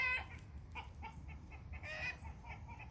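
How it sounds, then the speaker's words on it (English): Soft clucking and gobbling calls from turkeys, several short bursts spread across the clip over a low rumbling background. "Something just spooked the turkeys."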